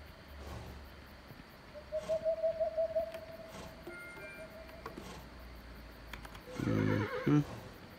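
A horse whinnies in the side-scrolling strategy game Kingdom, a drawn-out rippling neigh over a steady ambient hum, followed later by a sharper, louder burst of sound near the end.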